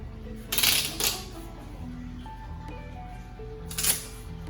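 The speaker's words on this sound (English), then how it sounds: "So we're just gonna put a bead of painter's tape on it." Painter's tape is pulled and pressed onto the trim of a large 420-gallon freshwater planted aquarium, with two short crackling rips close up and quiet background between, no talking.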